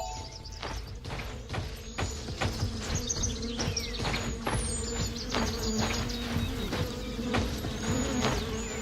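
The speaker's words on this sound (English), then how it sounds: "I hear the bees." Bees buzz in a video game, a droning insect hum carrying through the scene while regular thudding footsteps and a few thin tonal chimes sound over it, fairly loud and close throughout.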